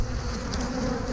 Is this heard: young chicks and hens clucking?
no